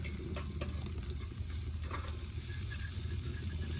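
Food sizzling in a hot cast iron pan, with a steady low hiss and faint scattered crackles plus a few light metal utensil clicks; quiet and close.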